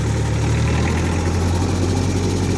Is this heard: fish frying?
no